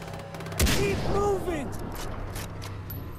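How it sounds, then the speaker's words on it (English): A burst of video game gunfire in Far Cry 3, a sudden loud shot followed by rapid crackling fire and whizzing effects that fade out within a second or so. "I keep shooting these guys in the knee or the elbow, one of the two."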